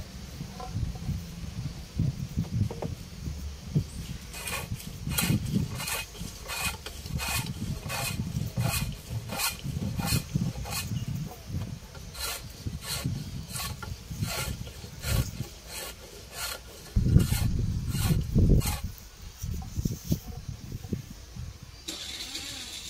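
A machine shapes a wooden plough part like a sharpener, giving a steady rasping, grinding drone with a long run of rapid regular pulses through the middle and a brief louder burst near the end.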